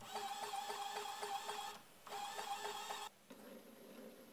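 A small geared motor salvaged from an old printer runs at 5V, giving a steady whirring hum with a rapid ticking pulse. It cuts out twice briefly, then continues more quietly.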